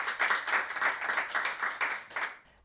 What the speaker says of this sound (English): I'd like the audience to give all our wonderful guests a lovely round of applause.